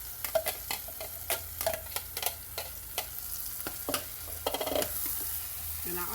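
A medium onion goes into a frying pan of sizzling ground meat, bringing a bed of frying hiss broken by repeated sharp scrapes and clacks of a utensil stirring, close and fairly loud.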